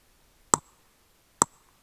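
A hand clap sample recorded on a phone and processed in BandLab: two sharp, isolated claps about a second apart, close and dry against silence.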